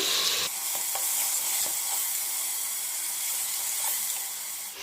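Ground masala for methi pulao frying in a pan, a bright constant sizzle with occasional spoon scrapes as it is stirred, close and even throughout.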